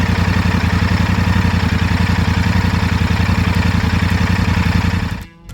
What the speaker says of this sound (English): even the stock pipes on this bike sound great. With that 270-degree crank